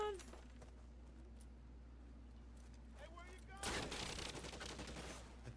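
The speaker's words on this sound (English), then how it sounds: "Tommy gun?" Burst of Tommy gun fire in the L.A. Noire video game, a dense loud rattle of rapid shots that erupts midway after quieter game ambience and voices, continuing to the end.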